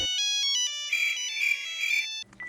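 A mobile phone ringtone plays a short electronic melody of stepped tones, loud and close, then cuts off abruptly near the end.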